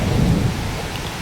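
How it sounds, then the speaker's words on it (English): A thunderstorm with rain arriving, steady rain hiss with a low rumble of thunder at the start that eases, loud and continuous throughout the short stretch. "The rain is now here."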